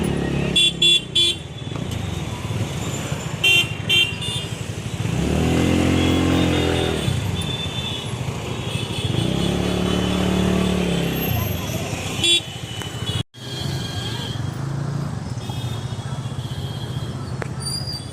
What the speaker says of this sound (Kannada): ಎಷ್ಟು ಟ್ರಾಫಿಕ್ ಜಾಮ್ ಇದೆ